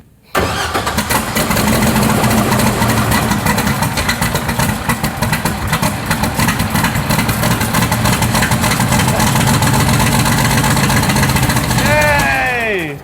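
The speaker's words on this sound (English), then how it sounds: "we're gonna fire up the motor and make sure that we have killed that noise once and for all" A 24 Hours of LeMons race car engine cranks and fires up, then runs with a loud, rough, lumpy idle close by for several seconds before shutting off abruptly.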